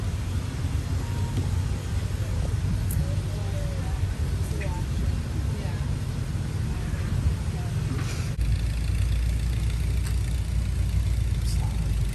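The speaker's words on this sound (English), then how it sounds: "Just a man and some tractors." A tractor engine runs steadily nearby on a farm, a low, even rumble underneath someone talking for the whole stretch.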